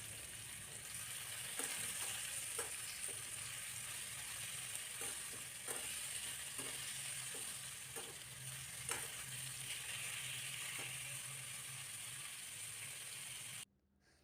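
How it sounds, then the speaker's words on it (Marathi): Boiled bitter gourd and onion stir-fry in a pan until crispy, giving a steady, close sizzle with light scraping clicks from continuous stirring; the sizzle runs unbroken for about fourteen seconds, then cuts off. "तीन ते चार मिनटं कंटिन्यू हलवत हलवत आपण हे भाजून घेणार आहोत"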